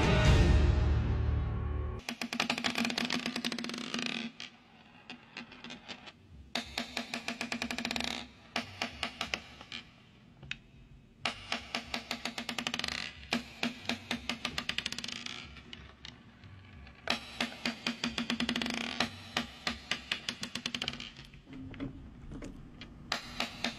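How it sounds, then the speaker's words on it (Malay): Quiet clattering of marbles rolling and knocking together, coming in repeated bursts of rapid clicks separated by short pauses. "tadi anda dengar ni bunyi goli"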